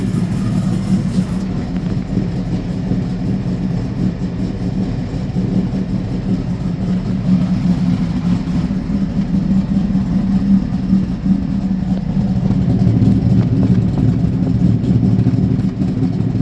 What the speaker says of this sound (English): you hear a slight rattling coming from the car